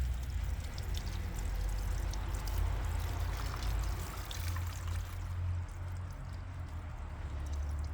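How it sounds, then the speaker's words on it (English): Running tap water pours steadily over cactus seeds being rinsed by hand, a loud, continuous close splashing stream with no talking. "I will just put this thing under the running water again"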